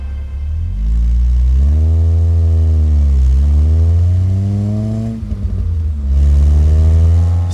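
Revving engine of a VW Golf Mk1 GTI, loud and close, rising and falling through several strong throttle blips with a steady rumbling idle between them.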